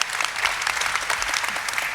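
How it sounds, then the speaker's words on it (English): Audience applause for a pitch contestant at an entrepreneurship showcase, a steady, dense wash of many hands clapping that fills the hall throughout without pause. "Big round of applause for you,"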